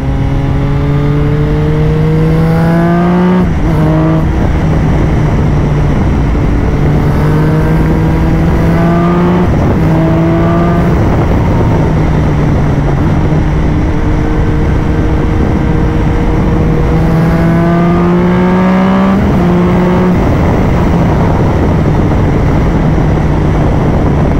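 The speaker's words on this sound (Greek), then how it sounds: "Αυτό που μου αρέσει πάρα πολύ σε αυτό το μηχανάκι είναι και τα σκασίματα που κάνει" Triumph Tiger 1050 motorcycle with an aftermarket exhaust revving up repeatedly in strong, rising pulls, each followed by crackling pops on the overrun, close and loud with no talk.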